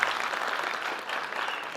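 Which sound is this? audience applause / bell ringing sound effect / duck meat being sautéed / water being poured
audience applause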